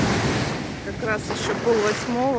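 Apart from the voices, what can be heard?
ocean waves and wind at Sri Lanka coast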